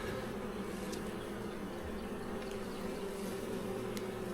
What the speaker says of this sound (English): Definitely a lot more bees in here though.